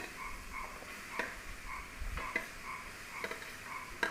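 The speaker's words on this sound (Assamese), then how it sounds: "গজালিখিনি দি এতিয়া মই এইখিনি লৰাই ভাজি ল'ম।" Bamboo shoots are stir-fried in a pan with a soft, continuous sizzle, punctuated by several light taps and scrapes of the spatula, close and quiet.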